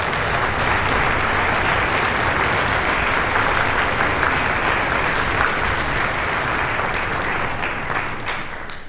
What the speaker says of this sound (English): Can we all give a round of applause?